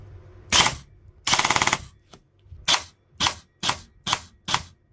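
An Ares L85 SA80 airsoft rifle test-fired after a gearbox service, sharp mechanical bursts: a single shot, a rapid stuttering burst, then five evenly spaced single shots, close and loud with no talk.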